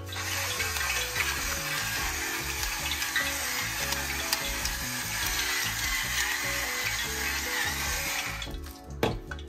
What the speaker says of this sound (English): You hear the pot sizzling.